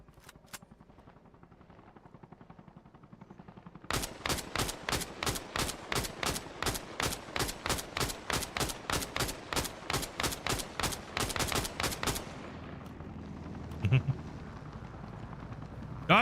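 Rapid automatic gunfire in Arma Reforger, a long evenly spaced burst of loud sharp shots lasting about eight seconds after a couple of isolated cracks, then cutting to a quieter rumbling background.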